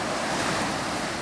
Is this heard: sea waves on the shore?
yes